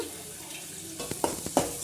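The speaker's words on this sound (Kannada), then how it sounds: "ಪೇಸ್ಟ್ ಮಾಡ್ಕೊಂಡಿದ್ವಲ್ಲ ಅದನ್ನು ಈ ಥರ ಒಗ್ಗರಣೆಗೆ ಹಾಕ್ಬಿಟ್ಟು ಎಲ್ಲನೂ ಚೆನ್ನಾಗಿ ಮಿಕ್ಸ್ ಮಾಡಿ ಸ್ವಲ್ಪ 1 ನಿಮಿಷ ಅದು ಹಸಿ ಸ್ಮೆಲ್ ಹೋಗೋವರೆಗೂ ಫ್ರೈ ಮಾಡ್ಕೋಬೇಕು" A ground paste frying in hot tempering oil for mixed vegetable upma, with a soft steady sizzle broken by several close, scraping stirs of a spoon in the pan toward the end.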